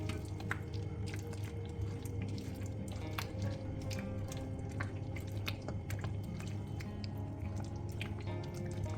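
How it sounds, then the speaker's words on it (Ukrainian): Spatula gently folding chopped strawberries into a creamy curd mixture for a no-bake dessert, soft wet squishing and dripping sounds repeating close by over a steady low background hum. "Додаємо нарізану полуницю і обережно перемішуємо лопаткою, щоб кожен шматочок ягоди занурився у кремову основу."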